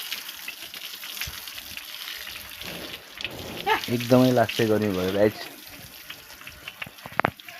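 Water from a motor pump pours steadily over a buffalo being bathed at a village home in hot weather, a continuous splashing rush with someone talking over it and a brief voiced call near the end.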